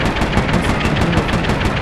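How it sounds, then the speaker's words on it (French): Rapid gunfire in the Assassin's Creed 2 video game, a loud dense burst of rattling shots repeating quickly without pause. "Vous voyez, on peut tirer."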